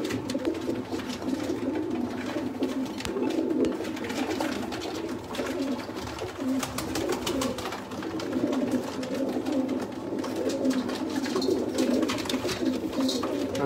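Sialkoti pigeons coo steadily in low, throaty murmurs, several birds overlapping close by in a continuous soft rolling chorus, with faint background clatter and no clear talking.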